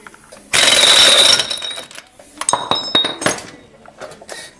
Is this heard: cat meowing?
no